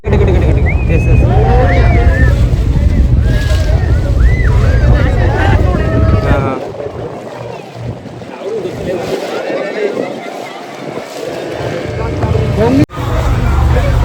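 A boat rumbles across the sea off Goa on a dolphin-watching trip, with heavy wind buffeting and water noise throughout and voices talking faintly over it.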